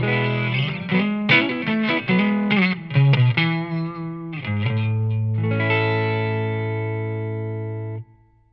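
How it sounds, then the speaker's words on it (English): An electric guitar through a Deluxe Reverb amp model with a Jensen speaker, modeled on a Line 6 Helix through a Powercab 212 Plus, plays a short phrase of notes and chords, ending on a sustained ringing chord that fades, warm and slightly driven. "Deluxe reverb with the Jensen speaker."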